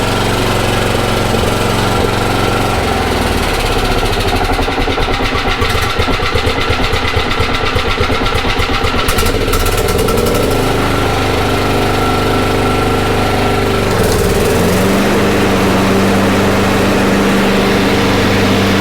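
A lawn mower engine runs steadily and loudly for the whole stretch, a rough mechanical drone with slight shifts in tone and no pauses.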